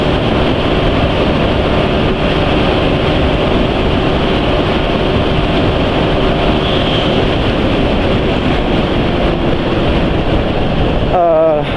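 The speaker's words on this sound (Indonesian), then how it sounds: "Hari ini lebih kencang ya motornya penulis, bisa 109 kalau di jalan seperti ini" A motorcycle rides fast along a road, its engine drone buried in loud, steady wind rush that lasts throughout, close and unbroken.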